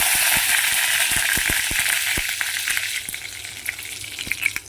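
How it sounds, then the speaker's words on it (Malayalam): Mustard seeds and curry leaves frying in refined oil in a kadai give a dense, steady sizzle with sharp pops and crackles scattered through it, close and loud, easing a little toward the end. "നമ്മുടെ കടുക് പൊട്ടി വന്നു. ഞാൻ അതിലേക്ക് കറിവേപ്പില ചേർത്ത് കൊടുത്തു."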